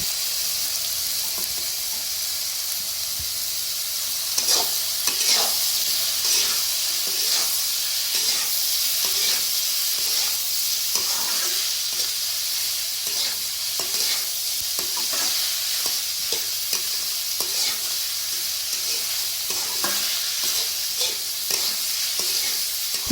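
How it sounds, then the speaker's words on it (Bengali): Radish and spices stirred and fried in a pan, a constant close sizzle with repeated light scraping strokes of a spatula in a steady rhythm, no voices. "এখন আমি এগুলো নেড়ে চেড়ে কষিয়ে নিয়ে তার মধ্যে দিয়ে দেব কেটে রাখা মোড়া"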